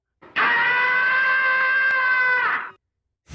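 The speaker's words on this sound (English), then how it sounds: "Tom and Jerry Scream." A cartoon scream sound effect from Tom and Jerry: one loud, sustained, shrill wail lasting about two seconds, steady in pitch, then fading off, with no talk.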